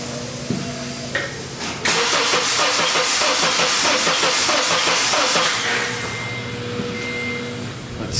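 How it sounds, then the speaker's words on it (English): An engine with its number one spark plug removed cranks over during a head gasket check, giving a rapid, even churning starter rhythm that lasts several seconds and then stops. "Let me just reach in there and crank it over."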